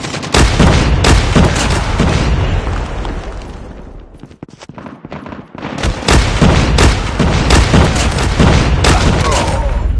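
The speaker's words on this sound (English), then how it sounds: "Friendly airstrike incoming" A Call of Duty Mobile deathmatch with an airstrike: a dense, loud barrage of blasts and gunfire rolls on, eases briefly in the middle, then surges back at full intensity.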